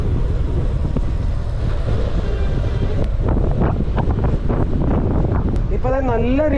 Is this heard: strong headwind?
yes